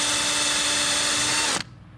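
A power drill whines steadily at close range for over a second, drilling through a boat rubrail, then cuts off abruptly, leaving quiet room noise.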